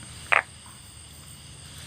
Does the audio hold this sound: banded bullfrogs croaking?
yes